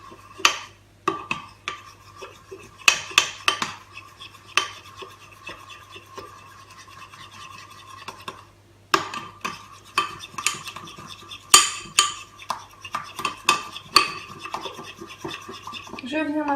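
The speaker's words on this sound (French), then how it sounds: "Je viens ensuite prendre mon chocolat fondu, enfin qui n'est pas encore totalement fondu, et je viens touiller" A spoon stirring partly melted chocolate in a bowl, with repeated scraping and clinking strokes against the bowl in irregular bursts, a short pause midway, and a voice talking faintly underneath.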